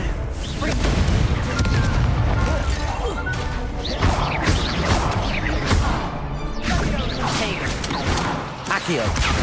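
The Confringo explosive spell in Hogwarts Legacy bursts in loud, repeated crashing blasts amid continuous combat noise and spell effects, with a voice talking over it.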